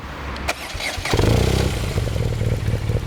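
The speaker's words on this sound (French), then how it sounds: "On va la démarrer un petit peu pour entendre le bicylindre à plat." A BMW R Nine T flat-twin motorcycle engine starting: a brief starter whir and clatter, then the boxer twin catches and settles into a close, loud, throbbing idle.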